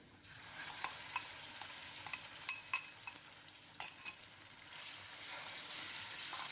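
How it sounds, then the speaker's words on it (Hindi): Garlic and chicken fry in a pan for chicken macaroni, a steady close sizzle broken by scattered sharp clinks and scrapes of a utensil stirring against the pan, with no talking. "चिकन को अब हमने अच्छी तरह से फ्राई कर लेना है ताकि इसका कलर भी चेंज हो जाए"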